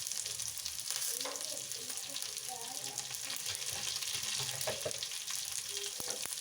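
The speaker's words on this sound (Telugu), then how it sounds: "అవి కూడా బాగా వేగాక మనం కొంచెం కరివేపాకు వేసేసుకొని" Curry leaves sizzle in hot oil while peas fry for a batani talimpu tempering, a steady dense crackle with occasional stirring scrapes, close and continuous throughout.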